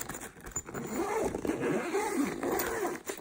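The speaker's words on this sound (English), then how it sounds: "you just zip it back" A zipper on a packing cube runs steadily for a few seconds in a long continuous rasping pull, close and fairly loud, with no talking.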